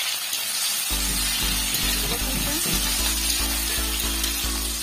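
Tomatoes frying in hot mustard oil for a sea fish curry give a loud, steady, close sizzle, with regular scraping strokes of a spatula stirring the pan.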